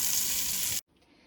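Food sizzling in hot oil in a frying pan over lowered heat, a steady loud hiss that cuts off abruptly partway through, leaving faint quiet background.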